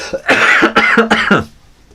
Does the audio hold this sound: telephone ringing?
no